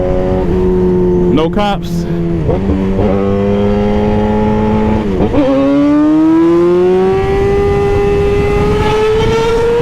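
A raw 600cc sportbike engine with no rider aids revs and accelerates loudly and close, its pitch climbing steadily through a long pull after a few shorter blips, with someone talking over it.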